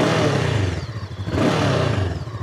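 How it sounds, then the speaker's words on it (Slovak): A 2023 Jawa RVM NEO Scrambler with an inline two-cylinder engine runs close by, a loud, rumbling, bubbly note that dips briefly and then swells again. "Zvuk motora typický, radový dvojválec."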